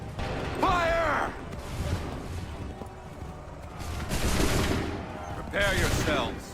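Musket volley fire in the Battle of Bunker Hill scene of Assassin's Creed 3, heard as booming bursts of gunfire at about one second and again near four and a half and six seconds, with shouted voices mixed in.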